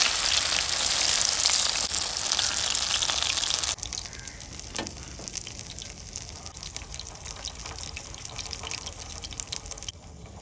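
Kingfish (anjal) pieces fry Mangalore style on a hot tawa, giving a loud, steady sizzle with crackles and drips that drops to a quieter hiss after a few seconds, with no talking.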